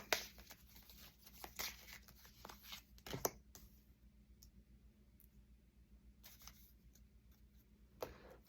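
Tarot cards being pulled from a deck: soft flicks, slides and papery rustles in quick bursts, a quieter stretch, then one more crisp snap of card near the end, faint and close with no talking.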